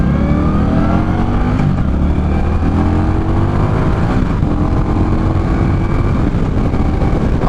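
A 2018 Indian Scout Bobber motorcycle engine on a test ride, loud and close, rising and falling in pitch as it revs and accelerates steadily without any talk.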